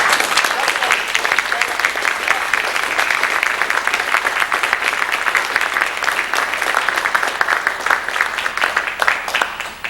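Sustained applause from an audience at an award presentation, dense steady clapping that fills the room for the full stretch with no break.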